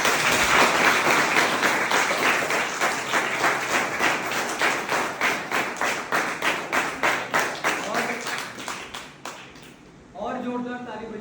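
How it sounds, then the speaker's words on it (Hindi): An audience at an educational gathering claps loudly, first as dense applause and then settling into a steady rhythmic beat of unison claps that fades before a voice starts speaking. "जोरदार ताली बजाइए।"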